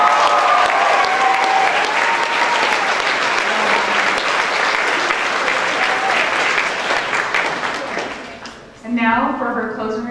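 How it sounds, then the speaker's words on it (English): Graduation ceremony audience applauding: sustained, loud clapping from a large crowd that fades near the end as a voice begins speaking. "I think we owe a round of applause to Campbell for putting that together."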